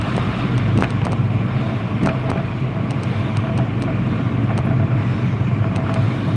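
Car driving on the road, a continuous loud road and engine rumble with wind noise from inside the vehicle, steady throughout with faint clicks and no talk.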